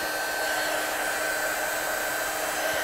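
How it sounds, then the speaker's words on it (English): A heat embossing tool blows a steady, loud whoosh of hot air as it heat-sets stamped ink on paper. Continuous and close, with no talk. "So I'm just going to heat set this one."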